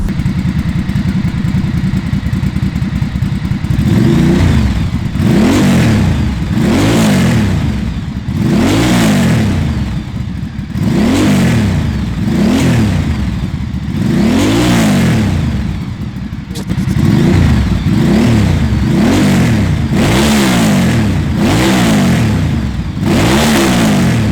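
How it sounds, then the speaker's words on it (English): A 2006 Ducati Monster S2R 800 V-twin with a GP Shorty exhaust revs repeatedly, a loud, close series of rising and falling blips over a rough, lumpy idle, with no voices. "Really makes the Ducati sound like a Ducati with that V-twin engine."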